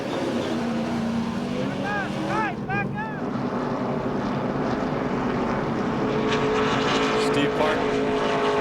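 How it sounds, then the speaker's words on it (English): A Dodge pickup in a 2005 Craftsman Truck Series race at Michigan pulls off pit road, its engine a steady roar with rising and falling revs. Other engines roar nearby and a commentator talks over them throughout. "Steve Park pulls the Orleans Dodge off of pit road"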